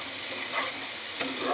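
Vegetable curry with sugar being stirred in a frying pan, a steady close scrape and sizzle running throughout with a brief sharper clatter near the end.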